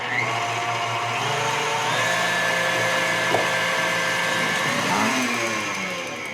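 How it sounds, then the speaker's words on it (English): Electric mixer running steadily on high speed, whipping cream toward stiff peaks for a peach chai shortcake; a continuous motor whir with shifting tones, close and loud throughout, no talking. "we're just gonna turn this mixer on high, and it's gonna go for about 1 minute until stiff peaks form"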